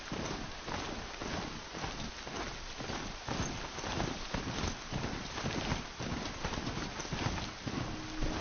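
Horse hooves clip-clop steadily in a video game as the animal trots along, a rhythmic, evenly paced series of moderately loud hoofbeats that runs throughout with no speech.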